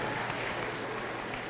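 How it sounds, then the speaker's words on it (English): Audience applause at a health talk on reversing diabetes and obesity, a dense continuous wash of clapping from a crowd, steady and fairly distant. "Give them a round of applause"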